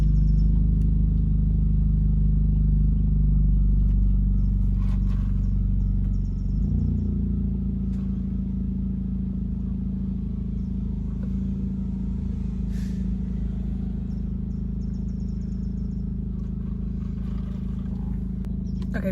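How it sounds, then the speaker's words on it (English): A car idles close by, its steady low engine rumble droning continuously and fairly loud with slight shifts in tone, and no talk over it. "this car is like idling just next to me"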